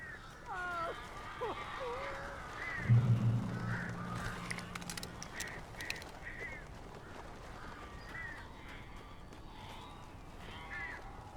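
Crows caw in Alan Wake Remastered, a few harsh calls scattered over dark ambient game sound, with a low rumble midway and a character speaking.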